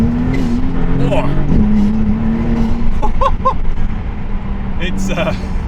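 A Maserati MC20 accelerates hard with a loud engine note that rises and shifts, wheels struggling for grip, while someone talks over it throughout.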